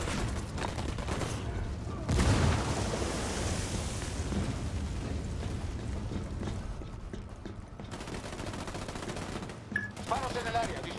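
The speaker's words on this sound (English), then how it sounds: "Disparos en el área, disparos en el área." Sustained automatic gunfire in the tactical shooter Ghost Recon Wildlands, rapid bursts rattling near and loud with a sharp blast early on, over a busy battlefield din and occasional radio-style voices.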